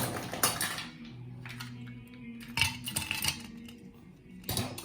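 Ice cubes clink and rattle into a cocktail glass of spiced moonshine, several sharp knocks and clinks spread across a few seconds, close up with no talking.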